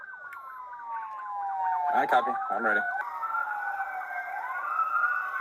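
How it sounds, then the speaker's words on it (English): Wailing emergency sirens rise and fall during a police pursuit, overlapping sweeping tones with one passing close, under radio chatter and voices. "You got an ambulance in front of you now."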